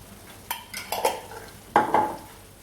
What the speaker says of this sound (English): So now we're going to give that a stir, get everything nicely combined.